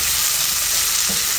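Bitter gourd sautéed with onions and garlic gives a dense, loud, continuous sizzle that fills the whole moment, close up and with no voices.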